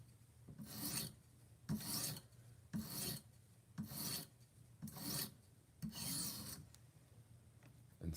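Kitchen knife drawn across a coarse whetstone in seven even, rhythmic scraping strokes about a second apart, close-up and alone with quiet gaps between passes.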